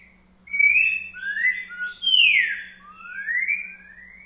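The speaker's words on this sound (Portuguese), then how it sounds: "Passarinho dá uns cantos aqui que vocês não têm noção. A virada dele é magnífica." A great-billed saltator (trinca-ferro) sings at dawn, clear loud whistled phrases with rising and falling slurs repeated across the clip, close by over a faint steady hum.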